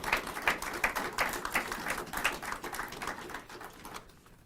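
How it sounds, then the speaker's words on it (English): A ceremony audience applauds veterans at a Louis Riel anniversary commemoration, with quick, faint clapping from many hands that tapers off and stops near the end. "Let's give another round of applause for our veterans here today"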